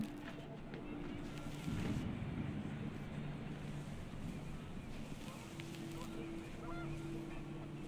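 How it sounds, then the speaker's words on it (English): Geese honk in a video game scene as wind picks up, several fairly faint tonal honks rising over a steady gusty wind roar, with a louder whooshing burst early on. "The wind picked up, and panicked geese appeared and quickly went."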